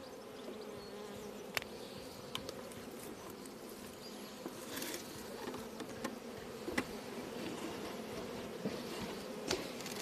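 A huge honey bee swarm drones steadily at an apiary, a thick unbroken buzz with occasional faint clicks and taps scattered through it, and nobody speaking.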